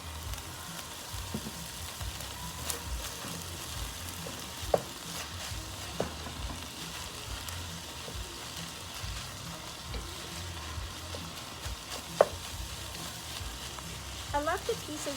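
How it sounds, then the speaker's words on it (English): Bacon sizzles steadily in a pan for a keto creamy zuppa soup, with scattered clinks and scrapes of stirring over the constant frying hiss. "I'm going to add the bacon."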